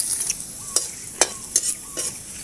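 Garlic sautés in a hot pan with a close, steady sizzle, broken by several sharp scraping strokes of stirring.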